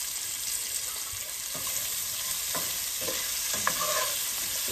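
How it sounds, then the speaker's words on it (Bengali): Cumin seeds, onion and green chilies sizzle in hot oil in a home kitchen, a steady close hiss with occasional soft scrapes and clicks of stirring, with no voices. "এখানে আমি একটু জিরা ফোড়নি দিয়ে দিলাম, কাঁচা রাখছি পেঁয়াজ কাঁচামরিচ এগুলি দিয়ে দিলাম"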